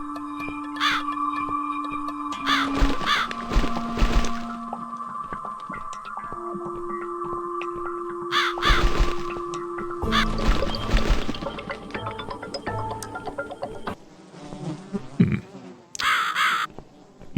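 Crow caws from The Cat Lady video game, repeated calls over a layered game soundscape with music and other effects, no talk.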